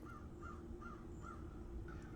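Blackbirds call outdoors while feeding, with repeated harsh caw-like notes in a loose rhythm over a steady, rumbling background.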